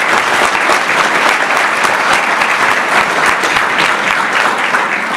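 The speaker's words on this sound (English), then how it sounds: "I want you to give yourselves a round of applause for coming tonight" A large audience claps loudly and steadily, a dense, continuous wall of applause throughout.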